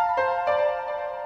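Nexus Arena Ambience piano preset playing sustained bright chords with a second chord struck midway, the notes ringing on with a wide, roomy shimmer and no voice present.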